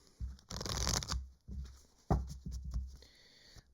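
A deck of cards being shuffled, with several quick riffling bursts and short pauses between them, close and fairly soft, with no talking.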